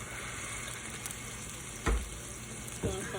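Chicken, shrimp and scallops in olive oil with lemon juice and pepper, frying at a soft steady sizzle, with two brief thumps of the pan or spoon as the mix is stirred.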